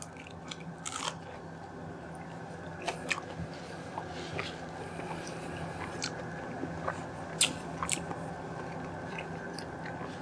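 Someone bites and chews a crunchy pepperoni pizza made on a thin flour tortilla crust, with faint crisp crunches and soft chewing clicks scattered across a quiet, steady background.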